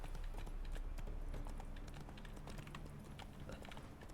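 Roach, the horse in The Witcher 3, gallops in a steady run of rapid clip-clop hoofbeats, loud and close, with no talking over it.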